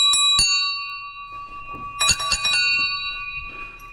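Church bells ring somewhere nearby: a couple of struck tones with long, shimmering sustain, then a quick cluster of strikes, all ringing out over a quiet background.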